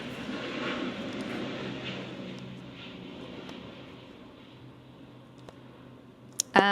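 An airplane passes overhead outdoors in Melbourne, a broad steady engine roar that is loudest at first and slowly fades as it moves away, with a few small clicks and a sharp knock at the end.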